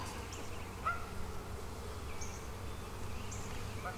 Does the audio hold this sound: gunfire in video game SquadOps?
no